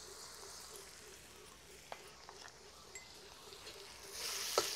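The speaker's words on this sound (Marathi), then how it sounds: "हे मसाले आपले टाकून झालेले 1 ते 2 मिनिटं परतून" Black masala, garam masala and red chilli powder sauté in a pan for mutton pulao, a faint low sizzle with a few light clinks of the spoon, growing brighter and hissier toward the end.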